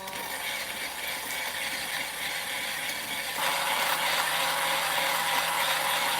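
A 64mm flat burr coffee grinder runs at low RPM with a steady mechanical whirring rattle that grows noticeably louder and brighter partway through. The grinder is heard alone at close range.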